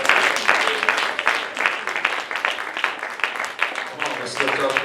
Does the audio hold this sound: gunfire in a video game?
no